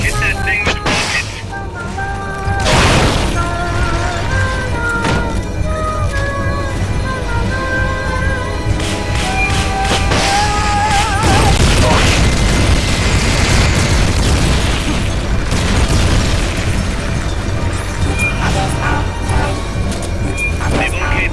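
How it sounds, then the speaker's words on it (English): Rocket explosions in Metal Gear Solid: Peace Walker: repeated booming blasts and bursts layered over steady game music with sustained tones, loud throughout the scene. "Hit that thing with rockets."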